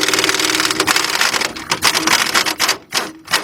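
Rapid ratcheting clatter of a wrench working a 17mm strut bolt on a 2010 Honda Accord 2.4, dense and close-up, breaking into shorter bursts near the end.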